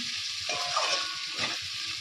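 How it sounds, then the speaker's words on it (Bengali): Carrots, potatoes and peas fry in oil with ginger, bay leaf and dry chili, a steady bright sizzle broken by a couple of scraping stirs of the spatula. "আদা, তেজপাতা দিয়ে শুকনো লঙ্কা দিয়েছি, দিয়ে এই সবজিগুলো দিয়ে ভাজা ভাজা হবে।"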